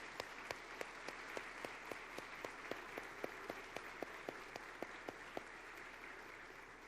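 A church congregation applauds in gratitude during a worship service, with a steady wash of clapping behind a rhythmic run of sharp, evenly spaced claps, heard fairly faint and distant.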